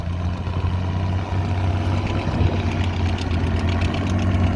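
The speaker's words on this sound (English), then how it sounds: "Then we got a Farmall 460" A Farmall 460 tractor with an extra stack runs steadily at a plowing event, giving a continuous low, throbbing engine drone with a slight knock, fairly loud and unbroken, no speech.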